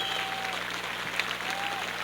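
Crowd of about 5,000 at Shaw Park baseball stadium applauding a departing pitcher, a steady wash of distant clapping throughout.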